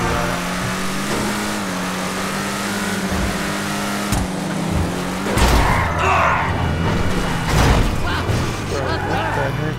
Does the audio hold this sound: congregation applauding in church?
no